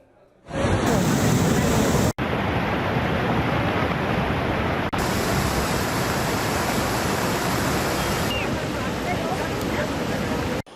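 Munawar Tawi river in full flood after heavy rain near Rajouri, Jammu and Kashmir, a loud, continuous broadband rush of churning water close by, steady throughout with no talk.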